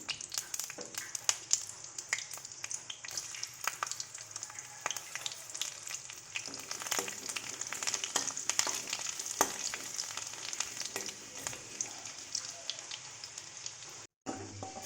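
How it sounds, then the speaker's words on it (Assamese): Five-spice seeds and garlic crackle in hot oil for a masoor dal with drumstick leaves, a busy popping, spitting sizzle with many sharp crackles, close and steady, with a brief drop near the end. "এতিয়া মই তেলত 5 ফোৰণ আৰু নহৰু দি ল'ম।"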